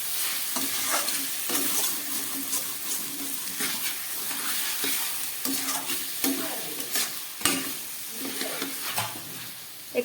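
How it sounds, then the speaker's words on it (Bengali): Chicken cooking with spices in a pan over low gas: a continuous frying sizzle broken by repeated scraping stirs and clanks of a spoon against the pan, close up, with no speech. "গ্যাসটা একটু কম করে হালকা ঢেকে আমি কষাবো।"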